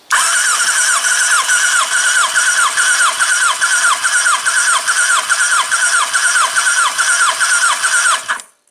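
A Kawasaki ZZR 1100 motorcycle engine cranks over on the starter for a compression test, held at operating temperature with the throttle wide open, in a loud, even, rhythmic whirring chug that runs for about eight seconds before stopping abruptly.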